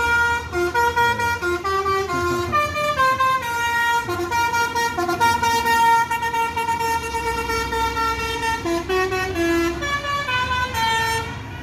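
A bus horn blaring at a bus terminal, a loud melodic multi-tone horn playing a continuous tune that changes pitch in steps for over ten seconds, close and dominant over engine rumble.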